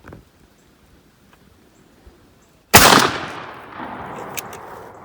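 A Remington 835 or Browning BPS 10 gauge shotgun fires a load of 1.5 ounces of number 3 steel shot: one sharp, loud close blast after a quiet pause, followed by a decaying outdoor echo and rustle.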